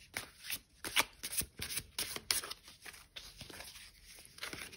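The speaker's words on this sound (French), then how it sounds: "on va commencer directement par le brassage et on va extirper une carte pour chacun des tas ici" Tarot cards being shuffled by hand, a series of quiet, close riffling and sliding bursts in an irregular rhythm with no talking.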